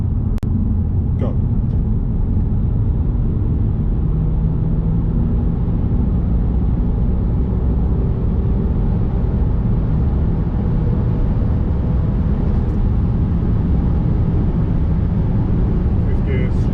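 A 2018-on BMW 330d E90 LCI, stage 2 tuned to 350 hp with a six-speed manual, pulling hard inside the cabin, a loud steady diesel drone under a single voice.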